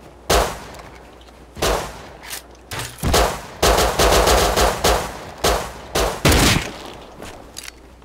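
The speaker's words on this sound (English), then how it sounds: "Head shot him, he's not dead." Gunfire in the video game Rust comes in rapid bursts of sharp, loud shots, clustered volleys and single cracks spread across about eight seconds with brief gaps between them.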